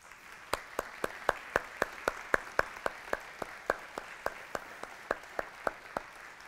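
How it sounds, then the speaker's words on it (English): Slow, steady rhythmic clapping at a church service honoring military veterans, each clap distinct and evenly spaced, around three per second, moderately close with a faint room wash behind and no talk. "we would just like to acknowledge you by a round of applause"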